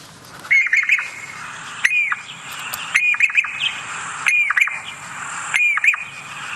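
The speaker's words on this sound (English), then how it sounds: "Okay, that's the Jacobin." A recorded Jacobin cuckoo call plays from a phone bird app outdoors in the African bush, loud repeated squawking whistled notes in about five evenly spaced bursts with no talk.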